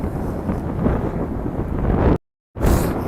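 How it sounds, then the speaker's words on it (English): Strong cold wind on the Brooklyn Bridge buffets the microphone with a loud, continuous rumbling roar, broken by a brief dropout before the gusting resumes. "It's windy, people. It's windy."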